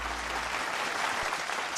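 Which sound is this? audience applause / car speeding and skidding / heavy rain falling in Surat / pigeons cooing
audience applause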